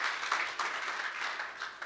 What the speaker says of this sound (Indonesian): Tepuk tangan dulu untuk Tuhan yang luar biasa.